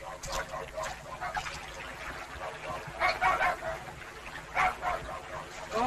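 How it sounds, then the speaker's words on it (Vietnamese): Dogs bark in bursts during a wartime raid through a forest, several separated barks at moderate distance over a low background, with voices talking. "Tây dẫn chó đi càn rừng đấy."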